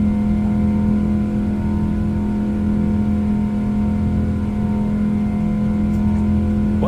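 Simulated PMDG 777 jet engines in a flight simulator drone steadily during the climb, a loud, continuous low hum with a strong tonal line that holds unchanged throughout, with no talking.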